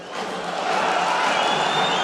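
A local partisan crowd at a boxing title fight cheers and applauds in a steady, dense roar, distant and sustained without breaks.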